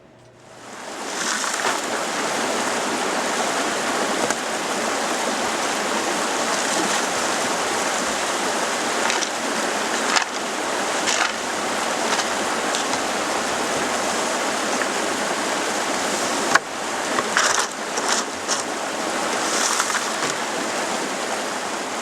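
Water rushing steadily through a Jobe sluice box outdoors, a loud continuous splashing flow with occasional brief knocks and clatters, no talking over it.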